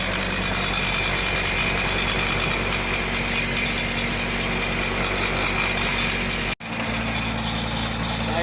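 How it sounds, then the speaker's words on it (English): Reel mower blades spin fast while backlapping, giving a loud, steady high-pitched whirring machine drone that runs continuously, with one brief dropout near the end before resuming. "these blades are spinning, and it's spinning at a much higher speed than your backlapping machine normally would"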